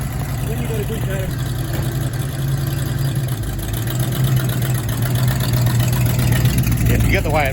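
A Ford P5 LTD engine idles in a steady, low rumble, close and loud, with a faint voice briefly audible toward the end.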